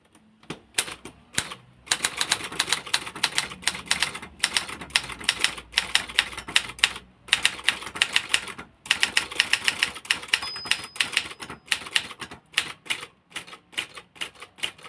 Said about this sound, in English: Now I'll try some, what for me is reasonably fast typing.